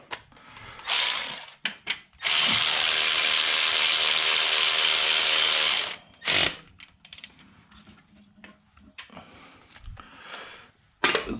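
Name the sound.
ratchet turning bolt during Jeep Wrangler serpentine belt replacement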